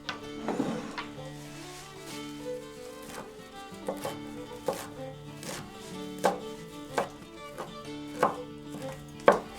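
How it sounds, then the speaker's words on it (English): A knife chops stinging nettles finely on a board, with a steady run of sharp, evenly spaced thuds close by over a faint tonal hum. "let's chop up our nettles nice and fine"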